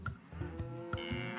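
Cartoonish cow moos from the game Putt-Putt: Pep's Birthday Surprise, two short lowing calls over a bouncy background melody with light sound effects.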